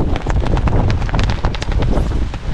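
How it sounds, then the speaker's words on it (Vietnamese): Strong wind gusts batter the microphone with loud, continuous buffeting roars and crackling surges, close and unbroken. "gió phải nói là quá to luôn một trận gió đi vào lịch sử anh em ạ"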